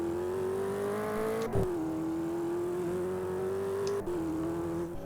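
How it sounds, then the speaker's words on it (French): An engine in a car driving video game drones steadily at high revs along a straight, with two brief gear-change dips, continuous and fairly close with no talk. "Ici, il y a une ligne droite, vous pouvez accélérer."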